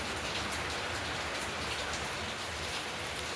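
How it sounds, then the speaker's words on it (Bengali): Heavy rain pours down in a steady, dense hiss that fills the whole stretch evenly, with no voices and no breaks. "বাবা বললো যে কাজে যাবে না, এত বৃষ্টি পড়ছে কী করি বা যাবে, চারিদিক জল জমে গেছে।"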